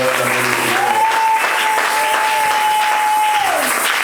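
A church congregation at a prophetic seminar applauds loudly and continuously, a dense, close wash of clapping, while a sustained sung or held vocal tone carries over it in the middle.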